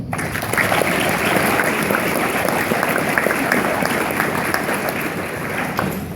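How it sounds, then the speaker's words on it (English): Steady, dense applause from a large audience at a high school graduation ceremony, sustained evenly throughout without pause. "Let's please join me in applauding them now as well."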